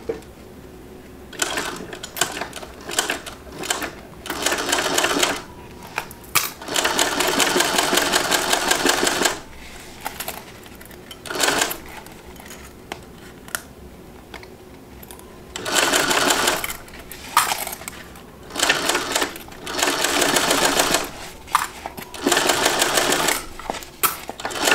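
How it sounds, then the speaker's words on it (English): A sewing machine stitching a quarter-inch seam runs in repeated loud bursts of rapid whirring, some long and steady, others short, separated by quiet pauses where the fabric is adjusted. "now let's get this sewn on at 1/4 of an inch seam allowance."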